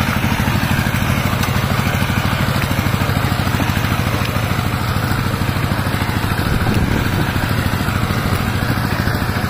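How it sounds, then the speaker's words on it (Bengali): Power tiller engine running steadily in a farm field, a loud close rhythmic chugging with rapid regular pulses and no talk. "আর এই জমিতে পাওয়ার টিলার দিয়ে 6টা চাষ দেওয়ার পরে কিন্তু এই বাটুই দেওয়া হচ্ছে।"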